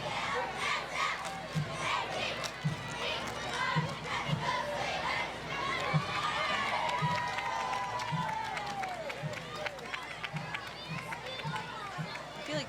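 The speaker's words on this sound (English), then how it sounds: "Girls doing a little cheer here for the crowd tonight." A group of girls performs a shouted cheerleading chant for the crowd at a Halloween parade at night, rhythmic bursts of voices over a noisy crowd with rapid call-and-response shouting.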